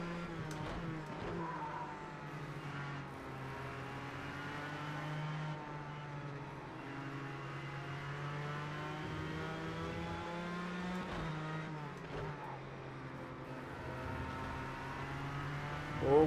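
Race cars roar around a circuit in the racing game Project CARS 2, including Ford GTs, with steady engine drone, shifting revs and tyre skids running continuously and loud.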